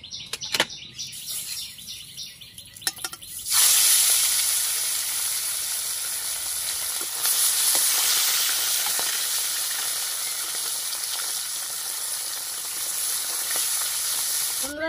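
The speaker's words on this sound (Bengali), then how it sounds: "এটা গরম হয়ে গেছে, এবার তেলটাতে আমি মাছটা দিয়ে দেবো।" Fresh fish dropped into hot oil in a pan for a Bengali fish curry: a quieter opening gives way at once to a loud, hissing sizzle that stays strong and steady to the end, up close and without speech.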